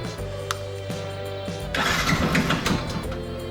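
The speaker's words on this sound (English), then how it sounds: "Now let us see what happens if we by mistake twist the throttle while trying to start it." A Yamaha FZ V2.0 motorcycle is cranked with its throttle twisted, giving a close, rhythmic starter whir with repeated chugging pulses and a brief louder burst midway, but it never catches.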